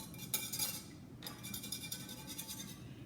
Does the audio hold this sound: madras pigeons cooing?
no